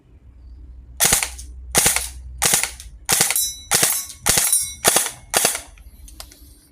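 A Krytac Kriss Vector airsoft electric gun fires in burst mode, giving eight sharp, loud cracks at close range with short, fairly even pauses and a low motor hum underneath.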